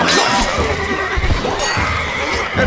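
A horse neighs loudly in a long, shrill whinny in the video game Stronghold Crusader, with faint hoof clops underneath.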